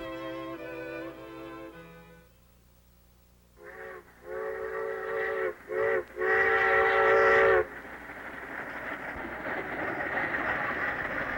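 A five-car private train pulls into Biltmore Station while a steam whistle blows in several bursts before one long blast, then the rumble of rolling cars carries on.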